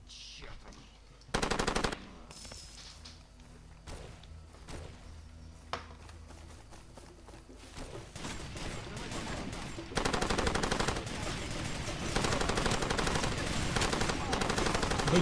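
Far Cry 2 gunfight: scattered sharp shots early, then sustained loud automatic bursts filling the second half, fairly close, with no talk.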